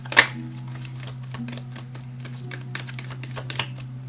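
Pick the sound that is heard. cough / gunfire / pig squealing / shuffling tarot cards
shuffling tarot cards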